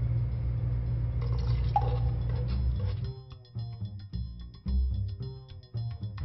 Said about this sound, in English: I'm going to add just a little bit of water so we can get